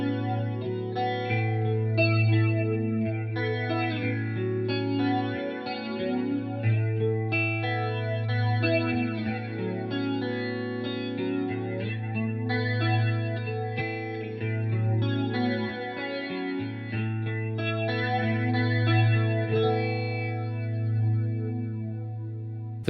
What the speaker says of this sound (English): you've got a very wide, very vocal flanging sound. It just kind of slowly sweeps through its range.